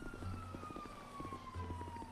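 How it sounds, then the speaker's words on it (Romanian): An ambulance siren wails steadily as the vehicle arrives, its tone sweeping across a busy urban background with repeated rhythmic pulses, loud and close. "Stați puțin că am venit ambulanța."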